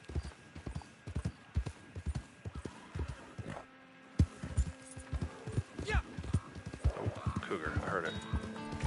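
Steady clip-clop of horse hooves in the video game Red Dead Online, a close and regular gallop that runs throughout, with a brief whinny and someone talking over it.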